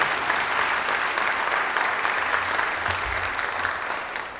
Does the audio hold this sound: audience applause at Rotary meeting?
yes